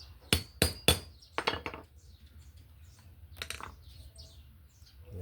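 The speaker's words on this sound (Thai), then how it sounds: "ต่อไปเราก็ใช้ ไขควงตอก อีก ครั้งหนึ่ง ครับ เพื่อจะให้แกนข้อ ต่อ โซ่ หลุดออก" Several sharp metallic taps of a hammer striking a screwdriver to punch out a motorcycle chain pin, a quick burst of three then a few more, close with quiet gaps.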